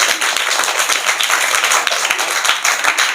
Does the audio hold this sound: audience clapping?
yes